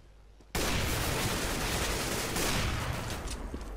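Counter-Strike: Global Offensive gunfire, a sudden dense burst of shots starting after a quiet half second and sustaining loud, rapid reports to the end.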